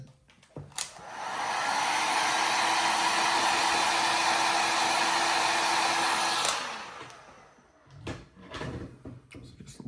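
A hair dryer runs steadily for several seconds to warm a Mythic Legions action figure piece, a close, loud, even blowing rush that cuts off abruptly, followed by small clicks and handling sounds.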